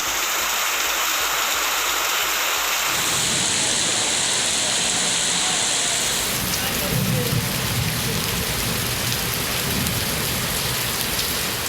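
Heavy rain pours steadily over Aruppukottai and nearby villages in Virudhunagar district, Tamil Nadu, a dense continuous hiss with a deeper rumbling wash setting in partway through, loud and close with no voices.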